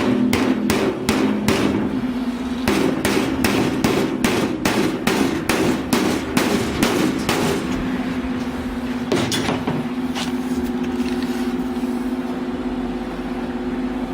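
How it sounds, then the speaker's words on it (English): Repeated sharp metallic hammer strikes, fast and steady at first, then sparser blows with a lingering ring over a constant hum. "Put it to the coolant hammer test"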